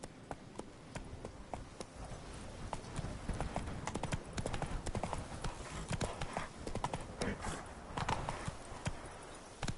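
A horse gallops in The Witcher 3 with a fast, steady clip-clop of hooves that runs the whole time at moderate level, and a faint voice is briefly heard over it.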